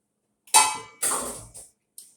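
Pork dropped into a hot stir-fry pan for sweet and sour pork, giving a loud sizzling hiss that bursts up, fades, then flares again in a few shorter bursts close by with no talk.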